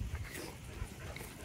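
Young livestock guardian dog pups make soft whimpers and small yips over a noisy, rumbling background outdoors among sheep, with no clear speech.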